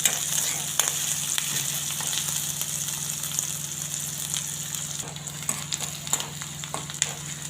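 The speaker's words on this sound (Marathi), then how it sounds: "आता हे कांद्याला थोडासा लालसर कलर येईपर्यंत आपल्याला हे कांदा तळून घ्यायचा आहे" Onions frying in a pan for a paratha filling, a steady soft sizzle with occasional crackles and stirring scrapes, close and continuous with no talk.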